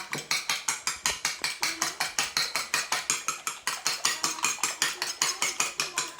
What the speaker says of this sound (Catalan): aquí hem tirat un ou i el que haurem de fer és batre'l